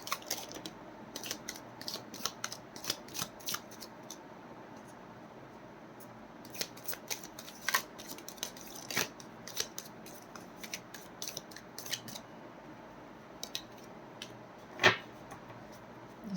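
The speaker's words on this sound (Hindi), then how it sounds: "This is my last shuffle." Tarot cards being shuffled by hand produce a run of quick, soft riffling clicks and flutters, fairly close and faint, with one sharper snap near the end and no talk over them.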